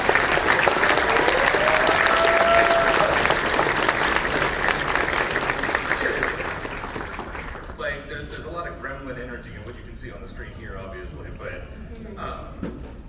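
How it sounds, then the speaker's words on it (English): Enthusiastic audience applause for a group of original characters fills the room, sustained clapping that fades down after several seconds as talk resumes underneath. "So can I get a round of applause for the wonderful original characters that we have?"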